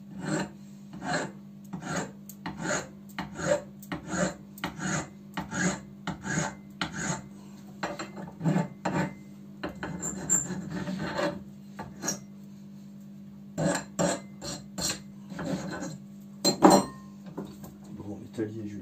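A hand file rasps on metal while working on a fuel tap from a 1979 900 Bol d'Or motorcycle, with rhythmic back-and-forth strokes, close and loud, pausing briefly midway before the strokes resume.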